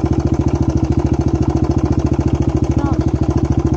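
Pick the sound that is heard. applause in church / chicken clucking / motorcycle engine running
motorcycle engine running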